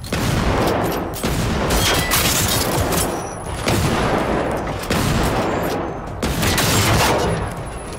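Sustained bursts of gunfire from the video game Generation Zero, loud and dense with overlapping shots and heavy booms rolling through the whole stretch, with no talk over them.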